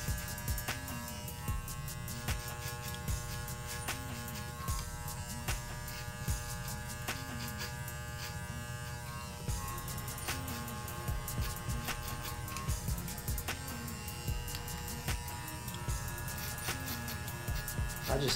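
Electric hair clippers fitted with a 1.5 guard buzz steadily at close range through a barber's undercut, with repeated light taps and clicks as the blade works through the hair.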